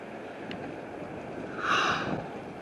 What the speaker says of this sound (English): Crazy windy out here.